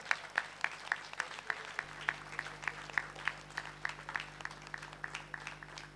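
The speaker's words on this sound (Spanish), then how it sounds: "Un aplauso para este gran jurado." Applause for the jury at a national salami festival comes as sparse, distinct handclaps, fairly faint and somewhat distant, in a loose, uneven rhythm that continues the whole time over a low hum.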